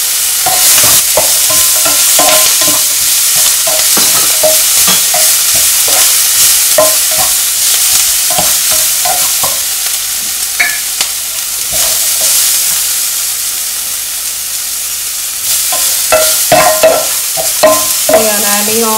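Cashews stir-frying in a hot pan for samosa filling, a loud continuous sizzle with repeated scraping of the spoon against the pan, no voices.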